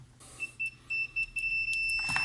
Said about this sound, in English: see if I get a beep